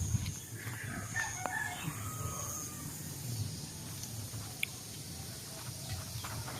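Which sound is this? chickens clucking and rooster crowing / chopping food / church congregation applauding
chickens clucking and rooster crowing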